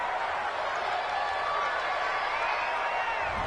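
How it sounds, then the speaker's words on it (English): A home football crowd in a stadium roars steadily for a penalty flag on third down, a dense, loud wash of cheering that holds for several seconds, with a broadcast voice faintly mixed in. "This home crowd, they're happy with that call."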